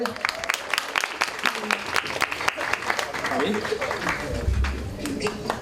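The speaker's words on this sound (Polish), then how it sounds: "Gorące brawa" Warm applause at a children's awards ceremony in Poland, where little girls are honoured for their palm decorations, a steady patter of many hands under a voice over a loudspeaker.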